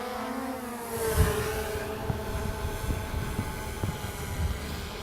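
A DJI Mavic 2 Pro drone taking off and climbing outdoors, a steady high whirring propeller drone with rising harmonic tones over rumbly wind-like noise, loud and near, with no talk.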